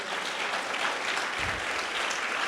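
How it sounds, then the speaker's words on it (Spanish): Church congregation giving a round of applause during a sermon, a steady wash of many hands clapping together, sustained and even, somewhat distant and moderate in level. "Dale una ofrenda de palmas,"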